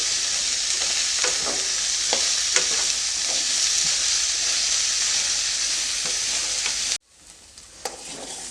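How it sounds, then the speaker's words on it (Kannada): Okra frying in oil, a loud, constant hissing sizzle with occasional stirring knocks, cutting off abruptly to near-quiet before a couple of soft clinks. "ಇವಾಗ ಬೆಂಡೆಕಾಯಿ ಚೆನ್ನಾಗಿ ಫ್ರೈ ಆಗಿದೆ"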